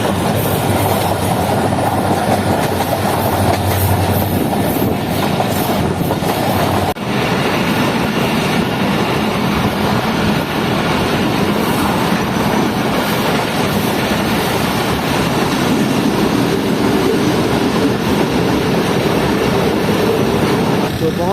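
The Shah Latif Express rolls into Mirpurkhas on its Karachi run, a loud steady rumble of wheels on rail with rhythmic clickety-clack heard from on board, continuous throughout with a faint voice underneath.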